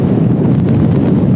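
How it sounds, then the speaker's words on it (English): Strong gusting wind from Storm Claudio at Manchester Airport buffets the microphone as a loud, continuous low roar without talk. "it is a very, very windy day here at Manchester Airport"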